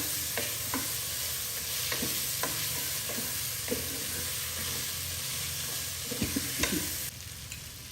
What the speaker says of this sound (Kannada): ಈರುಳ್ಳಿ ಸ್ವಲ್ಪ ಬ್ರೌನ್ ಆಗೋವರೆಗೂ ಎಣ್ಣೆಯಲ್ಲಿ ಫ್ರೈ ಮಾಡ್ಕೊಳ್ಳೋಣ